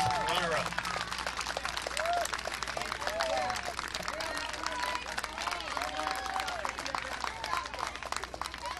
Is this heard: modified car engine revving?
no